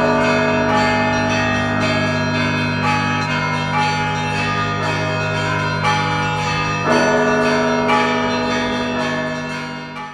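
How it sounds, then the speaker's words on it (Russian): Newly installed church bells ring in the belfry of the Holy Dormition Cathedral, the largest weighing 4.5 tonnes, giving loud, rich overlapping peals that strike repeatedly and leave a long, sustained ringing hum. "были доставлены новые колокола и установлены на звоннице Свято-Успенского собора"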